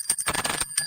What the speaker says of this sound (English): You gonna ring the bell?